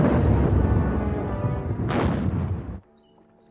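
Massed artillery guns fire on the Western Front in World War I, a dense rumbling barrage of overlapping booms with a sharper blast near the end, then it cuts abruptly to near silence.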